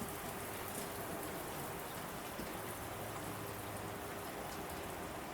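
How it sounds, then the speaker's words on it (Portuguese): Steady rain drops patter against window glass on a rainy night, a constant even hiss with no pauses and no voices. "ainda era possível ouvir as gotas que batiam contra o vidro das janelas num ritmo constante"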